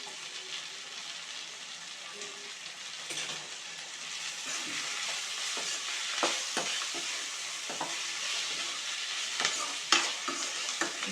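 Curry leaves and garlic fry in hot oil for bitter gourd pulusu. A soft, continuous sizzle runs throughout, broken by occasional clinks and scrapes of stirring that grow a little busier toward the end.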